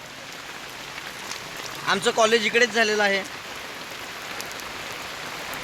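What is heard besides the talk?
rain falling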